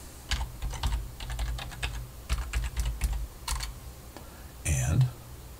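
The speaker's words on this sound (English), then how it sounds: "let's start by simply typing in blogger.com" Typing on a computer keyboard produces a close series of quick, uneven clicks and key taps in short bursts, with a slightly louder clack near the end, and no talk.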